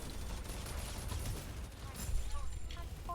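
Rapid mech gunfire from the Dreadwolf mech in the video game Super Mecha Champions, a continuous burst of dense shots with a heavier thump near the end, under other game sounds.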